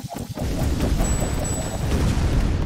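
In the ShellShock Live video game, a fireworks weapon sets off a dense run of booming, crackling blasts after a few quick pops, loud and continuous to the end.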